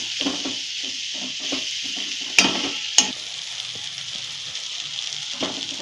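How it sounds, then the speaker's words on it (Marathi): Dried mackerel chutney fries in oil while being stirred, giving a steady close sizzle broken by soft scraping strokes and two sharp utensil knocks against the pan. "हलवून अशी 1-2-3 मिनिट अशी परतून घ्यायची चांगली चटणी."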